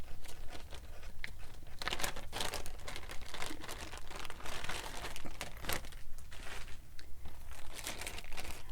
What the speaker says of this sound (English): Now we're going to grab some basting tape.